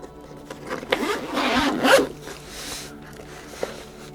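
Zipper being pulled open on a Maxpedition Beefy EDC pouch, several close, quiet rasping zips in short bursts with light fabric rustle and handling noises, no voice over it.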